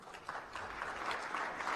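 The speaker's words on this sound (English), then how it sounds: "I think we should clap to that." A live audience claps steadily for a guest at a Speak For Africa event, the applause a dense, even patter that holds at moderate level throughout the short moment without any voices over it.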